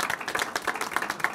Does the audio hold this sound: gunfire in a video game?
no